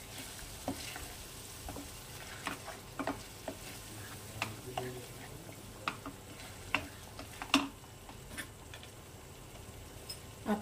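Egg curry masala with raisins is stirred and cooked down in a pan: a soft, low sizzle broken by scattered spoon clicks and taps against the pan, with no one speaking.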